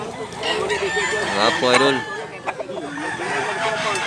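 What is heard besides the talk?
chickens, roosters clucking and crowing in Cebu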